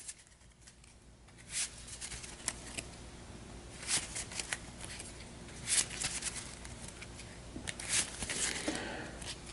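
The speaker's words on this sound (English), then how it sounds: "You guys are watching me shuffle this" A deck of playing cards is shuffled by hand at a tabletop game, making soft, close riffling and flicking bursts. The bursts come in irregular clusters over a quiet room background, with no talking.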